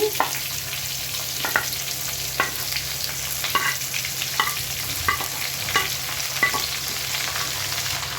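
Cauliflower and potatoes frying in a pan, a loud steady sizzle broken by repeated scraping stirs at a regular pace.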